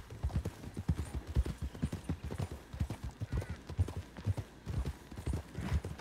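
Horse hoofbeats in RedM roleplay: a brisk, rhythmic clip-clop gallop of many close, clear thuds continuing steadily throughout.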